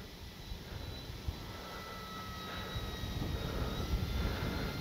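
A light RC Corsair model plane flying in strong wind, its engine a steady, distant drone mixed with wind noise, slowly building in loudness.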